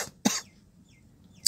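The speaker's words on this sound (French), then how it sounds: "Pardon, je tousse un peu." A single sharp cough from a person nearby, followed by a short, fainter throat sound at the very end, with near silence in between and no talking.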